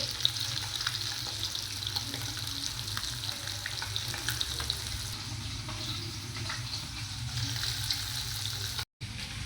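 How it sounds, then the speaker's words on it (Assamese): Pieces of shol fish fry in hot oil in a pan, giving a dense, continuous sizzle at steady volume, close by and without talk. "এয়া মাছ ভাজি আছোঁ।"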